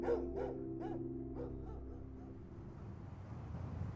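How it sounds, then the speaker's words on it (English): A dog barks several times in quick succession, close and clear, then falls quiet, leaving a low rumbling background. "she heard that dog start barking at something in the living room"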